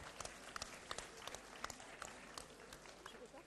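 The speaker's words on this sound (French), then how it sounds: "Merci, on peut les applaudir beaucoup" Crowd applauding at the departure ceremony of the 24 Heures de Saint-Jo 2018, quiet, distant clapping with sharp individual claps standing out, steady over the few seconds.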